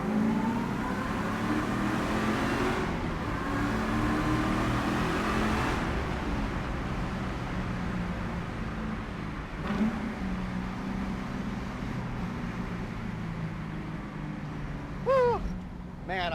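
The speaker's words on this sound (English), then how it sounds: "let's see if we can hear that blower whine." A black 1968 pro-touring Camaro with a Magnuson-supercharged LS V8 runs through a tunnel, its reverberant engine roar rising and falling with a whining tone over it and a sharp squeal near the end.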